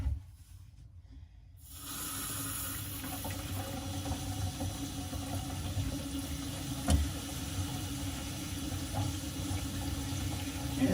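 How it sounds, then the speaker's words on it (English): Tap water from an American Standard Rumson faucet runs steadily into a sink, starting after a brief quiet moment and continuing as a constant close-up rush with one small clunk midway. "Then we're going to run some water and make sure we don't have any leaks,"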